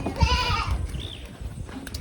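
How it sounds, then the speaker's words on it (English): Goats bleat on a farm at feeding time, one loud, wavering bleat up close followed by a fainter cry, with scuffling and rustling underneath. "I'm going to go feed the goats."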